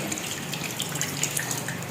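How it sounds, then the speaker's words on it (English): Water pours and splashes into a cooking pot holding rinsed meat for sinigang, a soft steady trickle with small bright splashes, fairly quiet and with no talk. "Now we're going to put some water in here."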